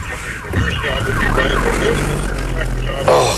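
A Nevada police car passes along a rural road with its siren going, a loud wailing tone rising and falling over the steady rumble of a nearby engine.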